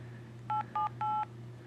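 iPhone keypad dialing tones, three distinct beeps in quick succession, the last one held longer, clear and close over a low steady background hum.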